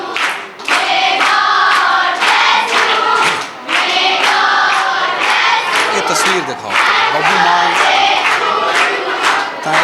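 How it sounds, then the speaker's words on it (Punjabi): Children at a birthday gathering for Babbu Maan clap and cheer loudly, a dense, continuous crowd roar with rhythmic applause running throughout. "ਤਾੜੀਆਂ ਦੇ ਨਾਲ ਜਿਸ ਤਰ੍ਹਾਂ ਬੱਚਿਆਂ ਨੇ ਸਵਾਗਤ ਕੀਤਾ"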